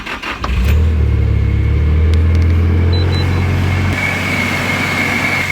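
A Nissan S15 Silvia engine runs steadily at idle close by, a deep even rumble with no voices.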